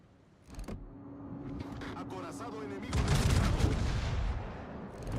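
Artillery fire support barrage in the video game Company of Heroes 3, with a rumbling burst of shelling swelling in around the midpoint amid ongoing battle noise, heard beneath a speaking voice.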